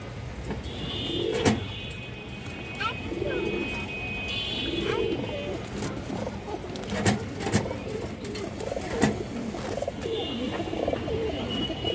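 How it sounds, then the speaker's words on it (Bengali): A silver male racing pigeon coos in repeated low, throaty bursts at close range, with a sharp clack and faint voices in the background. "একটা সিলভার নর কবুতর দর্শক।"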